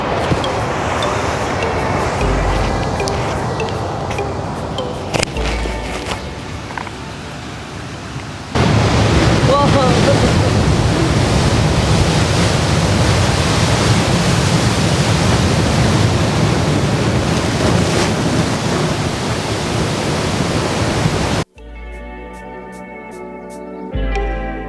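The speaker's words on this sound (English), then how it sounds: "Hear that? That's the ocean calling." Steady broadband rush of ocean surf at Big Sur, loud and continuous, with gusts of wind across the microphone and a brief shift near the end.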